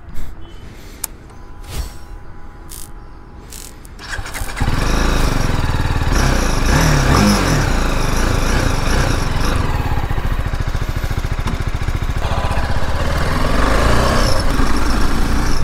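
A BMW G310 GS motorcycle engine starts quietly with a few clicks, then runs and revs loudly up close, a continuous rough engine roar that swells and eases, with no speech.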